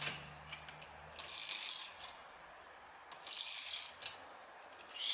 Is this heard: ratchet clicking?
yes